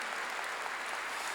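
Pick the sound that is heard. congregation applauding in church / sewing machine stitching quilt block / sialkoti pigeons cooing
congregation applauding in church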